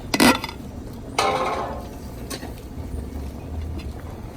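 Clinks and scrapes of a utensil against a pot while Thai basil and green onions are stirred into sauteed Lao-style mussels, a couple of sharp metallic knocks then softer mixing sounds, close and fairly quiet.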